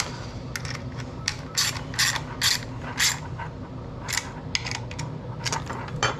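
Cobalt ratchet wrench being worked on bolts during an intercom mount build: repeated bursts of quick metallic ratchet clicking, close and fairly loud, with short pauses between strokes and no talking.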